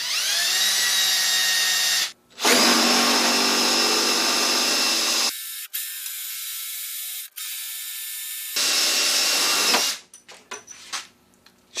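A power drill whining loudly in bursts, pausing and restarting as it grinds through material, with rattling mechanical noise at the end.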